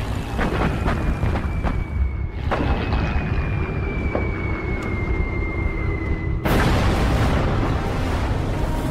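Bombs bursting during an air raid on the battleship Musashi, a dense, loud, continuous roar of blasts and rumble with a sharp, louder burst near the end.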